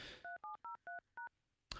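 Five crisp telephone keypad tones beep in quick succession, each a short dual-pitched note with brief gaps, clear and close, followed by a sharp click at the end.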